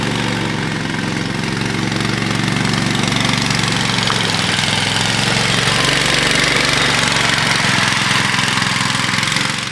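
A go-kart engine runs steadily and loudly at close range after starting, holding a rough, constant idle drone for about ten seconds, with no talking.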